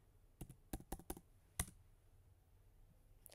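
Several light keystrokes on a computer keyboard sound in a quick, uneven run. A single sharper click follows, then near-silence. The clicks are quiet and close, with no talk.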